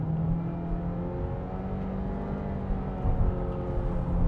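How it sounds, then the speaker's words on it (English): A 2026 Honda CR-V EX-L AWD engine in sport mode holds higher revs during a test drive, giving a steady, loud, close hum with a slight swell near the end. "it'll kind of sound like it's revving a little higher"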